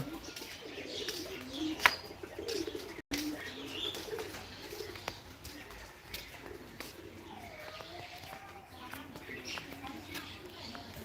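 Soft pigeon coos and scattered chirps sound faintly in the background, with occasional quiet voices and small clicks around them.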